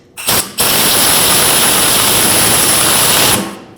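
Pneumatic or power tool running steadily for about three seconds after a short start burst, tightening the nut on a rear shock absorber of a 2014-2023 Jeep Cherokee; loud, close, continuous whirring hiss with no talking.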